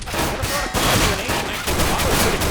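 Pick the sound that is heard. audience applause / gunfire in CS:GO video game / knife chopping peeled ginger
gunfire in CS:GO video game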